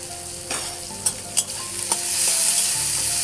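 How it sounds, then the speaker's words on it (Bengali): Mustard seeds and dried red chillies tempering in hot oil, sharp crackling pops and spatters over a sizzle that swells into a steady hiss, close and fairly loud, no speech. "সর্ষে আর হচ্ছে শুকনো লঙ্কা একটু ফোড়ন দিচ্ছি, তেলের মধ্যে এগুলো দিয়ে দিলাম"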